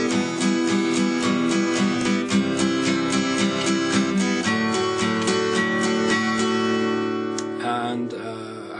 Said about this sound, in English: If I changed it slightly and strummed down and then up on the 8th notes, it would sound like this.